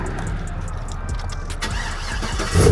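A Chevrolet Trailblazer SS, long parked and being brought back to life, cranks and fires up with its engine at the very end, a loud low rumble after steady background noise and faint handling sounds.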